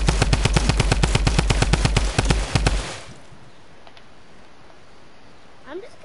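Rapid automatic gunfire in a video game, aimed at a trap, comes as a loud, fast string of shots for nearly three seconds and then cuts off, leaving quiet background.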